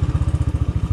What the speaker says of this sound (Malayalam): നമുക്ക് ബൈക്ക് മേലോട്ട് കയറ്റിയിട്ട് അതിൻ്റെ ഒരു എക്സ്പീരിയൻസ് എന്താണെന്ന്